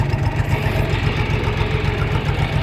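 A Kentavr 244SX Chinese mini tractor engine runs near 800 rpm in a low gear on a steep slope, giving a close, steady low throbbing rumble throughout.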